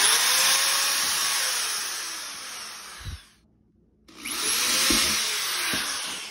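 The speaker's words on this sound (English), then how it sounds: "I already have my drill out, so I'm just going to drill it" A power drill whines steadily at high speed drilling pilot holes for a mosaic, stops briefly for about a second, then spins up again and keeps drilling.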